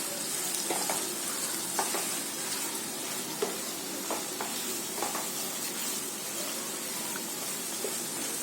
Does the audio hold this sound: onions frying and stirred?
yes